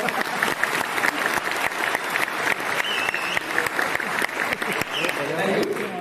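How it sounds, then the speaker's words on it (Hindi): Audience clapping at a launch event for the CYBERMAN cyber-fraud protection app, a dense steady round of applause with some sharper individual claps, with a voice talking over it. "ताली बजाना है तो प्रॉपर्ली सब लोग ताली बजाओ"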